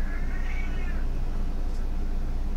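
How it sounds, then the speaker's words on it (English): A young, large, year-old cat lets out one drawn-out meow at the start, heard over a steady background hiss with no talking. "He's still a young kitty."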